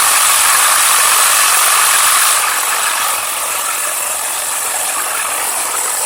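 Tamiya TA01 RC car motor spinning on its own after power-up, a loud continuous high-pitched electric whine with a slight drop in tone partway through, close up and without speech.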